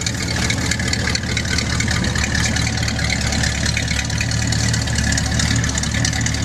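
A deep, rumbling V8 engine of a 1973 Ford Bronco idles steadily with a throaty, burbling glass pack dual exhaust note, loud and close, running continuously without pause.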